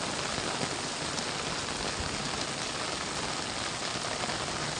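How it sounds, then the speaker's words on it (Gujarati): Heavy monsoon rain pours down steadily in Vapi-Bhilad, a dense unbroken hiss with no letup and no voices. "કેટલો બહુ તગડો વરસાદ પડે છે દોસ્તો"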